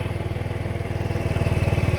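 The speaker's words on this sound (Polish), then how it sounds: "Odpalam na kopkę i zapali. Tak on chodzi. Bez gazu." A four-stroke motorcycle engine with big valves, kick-started and idling steadily with no throttle, giving a close, even, rapid thumping pulse throughout.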